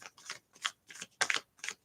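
Tarot cards are shuffled in five quick riffling bursts separated by short pauses, crisp and close, with no talking.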